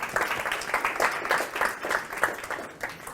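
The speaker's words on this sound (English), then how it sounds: "Yeah, give him a clap." A small group claps for a participant during an informal quiz-style exercise, light scattered clapping that is fairly faint and steady throughout.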